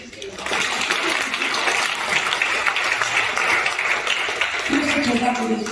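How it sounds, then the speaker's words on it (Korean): A church congregation claps in applause, a dense steady wash of clapping that starts after a brief lull and holds throughout, with some voices and a low tonal sound entering near the end. "지금 영광의 박수를 좀 쳐드리세요."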